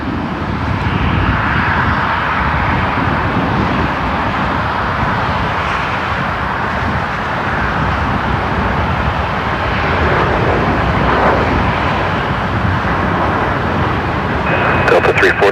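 An airliner takes off at Seattle-Tacoma airport with a loud, sustained broadband jet roar that holds steady and close throughout, filling the whole stretch without a pause.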